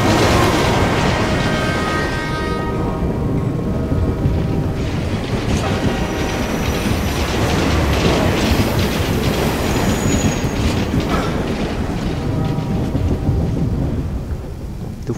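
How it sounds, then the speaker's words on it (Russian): A metro train rolls past in the video game Assassin's Creed Unity: a loud, continuous rumble and rattle of railcars with wheel squeal and clacking throughout, with no talking over it. "Двухэтажное даже метро."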